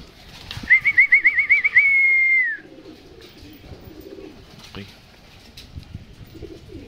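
Pigeons in a family loft give a quick run of wing flaps followed by a sustained call, close by, then the space falls quiet with faint soft murmurs and rustling.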